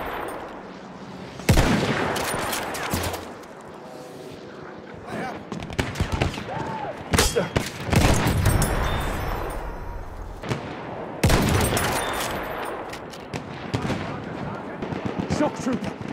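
Machine gun fire in the World War I shooter Battlefield 1, loud bursts and booming shots in repeated clusters amid battlefield noise, with voices calling out over the fighting.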